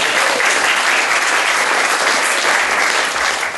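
Sustained, even applause from an audience at a classical music composition event honoring the head of the classical department, a thick wash of many hands clapping close and loud without any speech.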